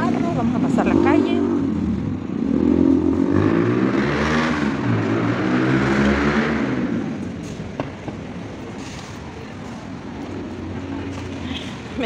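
Cars and motorcycles pass along a night-time city street in the historic centre of San Salvador, engines swelling and fading as vehicles go by nearby, with a steady traffic rumble and occasional voices underneath.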